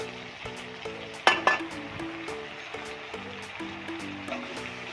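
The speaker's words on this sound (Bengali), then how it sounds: "লঙ্কাটা ভালো করে তেলের মধ্যে ভেজে নিচ্ছি।" Chili powder and chopped tomato fry in hot oil for a soybean vegetable dish, a steady close sizzle with a sharp utensil clink near the start, over a soft tonal melody in the background.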